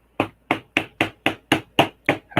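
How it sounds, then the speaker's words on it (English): A small Lego mallet taps Lego bricks on a Star Wars Republic Gunship set, nine crisp, evenly spaced plastic knocks in a quick steady rhythm, close and clear with no talk. "it just makes my life so much easier having that little Lego mallet"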